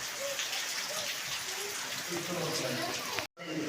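A dense, constant hiss of heavy rain pouring down, with faint voices buried underneath, before the sound cuts out abruptly near the end.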